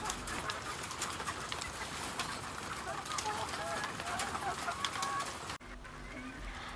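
Chickens in a poultry house cluck and chatter continuously, a dense crowd of birds heard under someone speaking, with the flock noise dropping away near the end.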